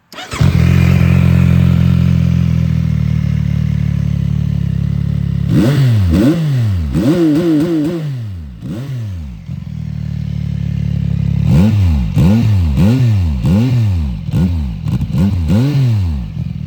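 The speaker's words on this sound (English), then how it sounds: "you push this lever, and then the bike starts by itself" A CFMoto 675 motorcycle engine fires up and idles steadily, then is revved repeatedly in sharp rising and falling bursts, loud and close.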